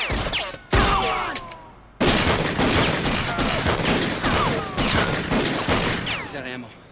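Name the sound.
gunfire in a shootout in the TV series Renegade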